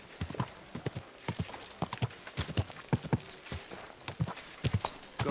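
Horse hooves in the video game Kingdom Come: Deliverance II clop in a steady, brisk rhythm that stays close and fairly loud for the whole stretch, with a faint voice in the background.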